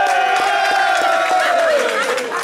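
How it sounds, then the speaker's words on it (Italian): A large crowd at a sports award ceremony roars and cheers in one loud, sustained wash of voices, with claps faintly audible underneath. "Vi chiedo anche un grande applauso qui per un altro grande giocatore di quella squadra"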